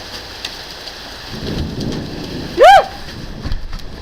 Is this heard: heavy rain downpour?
yes